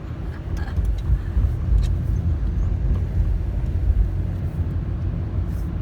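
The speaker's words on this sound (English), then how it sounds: "That's the 101 freeway." Steady rumbling roar of car traffic on the 101 freeway in Hollywood, Los Angeles, a continuous wash of passing vehicles heard from a moving car, moderately loud, with no talk.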